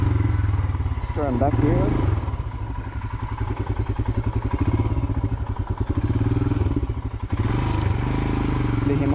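A Royal Enfield Himalayan motorcycle ridden off-road, its single-cylinder engine chugging loudly and steadily at close range with rhythmic pulsing and clattering over rough ground, while a rider briefly speaks.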